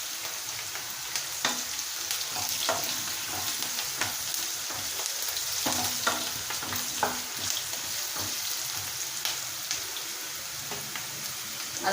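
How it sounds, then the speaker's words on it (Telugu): Turmeric stirred into oil in a frying pan while making munakkada perugu pachadi: a soft steady sizzle with occasional spoon clicks and scrapes, fairly quiet and close, no voices. "ఇప్పుడు ఇందులోకి తగినంత పసుపు వేసుకొని ఒకసారి కలుపుకోండి"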